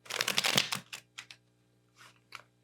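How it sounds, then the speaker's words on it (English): Tarot cards are riffled and shuffled in a quick burst of crisp flutters, then a few shorter shuffles follow after a pause, close and clear. "do some shuffling like this"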